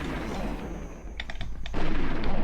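A sniper rifle fires in the multiplayer video game Conker's Bad Fur Day: a handful of sharp cracks and a heavier boom cut through a steady, noisy game background, with no one speaking.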